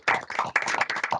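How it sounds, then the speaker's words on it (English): A few people clap in quick uneven bursts at a virtual annual celebration, close and fairly loud, lasting only about a second. "Round of applause, please, for Bibi."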